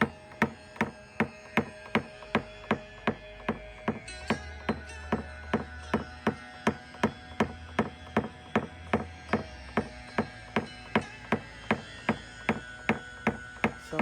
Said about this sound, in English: it's going to be a lot of tapping and maybe a little bit of pushing.